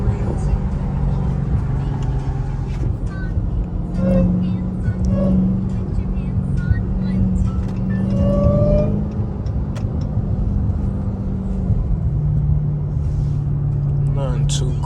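A 2023 Dodge Hellcat engine idles with a deep, steady rumble and swells into a few short revs mid-stretch as paddle shifters are worked, heard from inside the car with voices over it.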